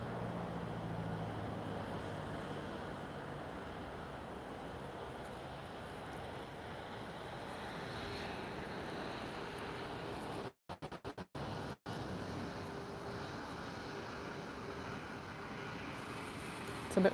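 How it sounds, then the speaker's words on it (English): Wind buffets a microphone outdoors at an airport on a windy evening, a steady low rumbling whoosh running throughout with a couple of brief dropouts midway. "I don't know if you can hear the wind in the mic"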